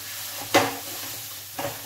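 Boiled potatoes being mashed and stirred on a tava over a low flame, with a steady soft sizzle underneath and two short, close scraping stirs about a second apart.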